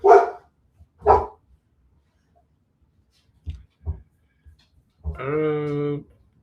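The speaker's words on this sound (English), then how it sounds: "Bear with me here because these dogs is acting up." Dogs bark in short loud bursts, a few sharp barks spaced apart followed by a longer whining yelp, close by with a voice nearby.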